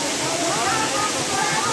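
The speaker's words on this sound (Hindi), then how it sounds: "ये पीछे झरना है" The waterfall at Pandav Van Dham roars steadily and loudly throughout, a continuous rushing wash of falling water with no breaks.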